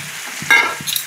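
Water poured into a pan of frying egg curry, a short burst of loud sizzling with quick stirring strokes close by.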